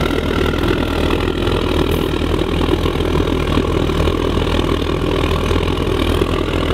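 A 300 kW waste oil burner running steadily at close range, giving a loud, continuous low roar with a constant blower hum and no speech.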